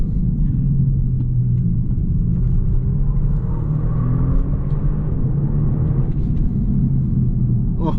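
Genesis G70 3.3T AWD sedan engine revving hard through a corner, a loud, steady rumbling drone whose pitch climbs and holds, heard from inside the car with no talking.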